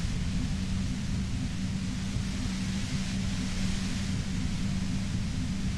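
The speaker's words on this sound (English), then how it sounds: "You hear through the white noise." Constant white-noise static from a video game hisses at steady volume, a dense, unbroken wash of noise with a low rumble underneath.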